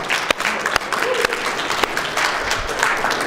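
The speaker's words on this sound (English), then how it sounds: "If you're going to clap and you're going to give God honor, do it with gusto." Applause from a church congregation, dense, sustained clapping across the whole stretch, fairly loud and steady with a few sharper claps standing out, no talking over it.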